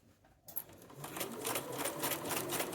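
A sewing machine stitching a sleeve cap with a bias strip at a five-eighths-inch seam, starting after a brief quiet moment and then running as a steady, close, rapid mechanical whirr.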